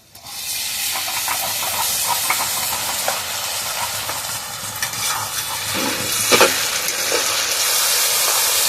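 Ginger-garlic paste frying in hot oil in a pan with onions browned for a special duck meat curry, giving a steady close hiss and sizzle with occasional stirring scrapes and a louder spatter near the end.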